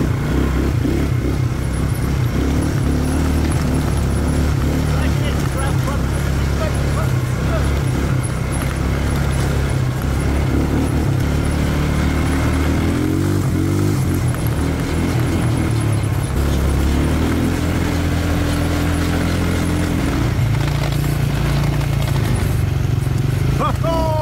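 Quad bikes driving along a Garden Route trail, with a steady rumbling engine drone and shifting revs running throughout, sounding close and continuous.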